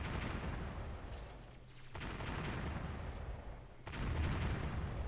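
Gunfire and shelling on a bunker in the Warzone strategy game, a dense rumbling barrage of booms that fills the whole stretch, easing briefly mid-way before swelling louder again.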